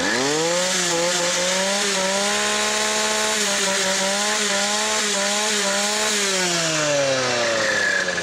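Small engine revved hard to full throttle, a loud buzzing rasp that climbs, holds with slight wavering, then drops back toward idle near the end, heard alone up close.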